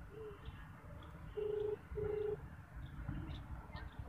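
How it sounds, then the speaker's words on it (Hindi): Phone being dialed on speakerphone in a park, two short loud electronic beeps in quick succession standing out over faint outdoor background noise, with no talk. "तो आप कॉल लगाओ उनको,"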